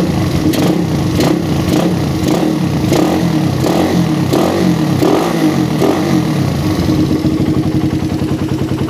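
Motorcycle engine fitted with a PE PWK carburetor revved repeatedly close up, a series of sharp throttle blips with clattering mechanical noise, settling into a steadier idle toward the end.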